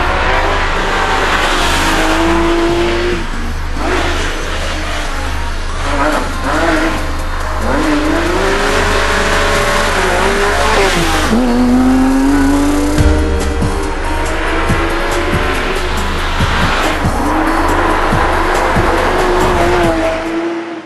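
Porsche 911 997 GT3 RS engine droning and rising and falling in pitch as it accelerates and shifts, with loud road and tire noise throughout, heard from inside the car.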